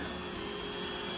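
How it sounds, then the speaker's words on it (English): A constant whirring drone of a robot vacuum cleaner running nearby, steady and unbroken with no voices. "they make a Roomba that maps"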